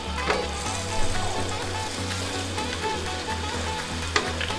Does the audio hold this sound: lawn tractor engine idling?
no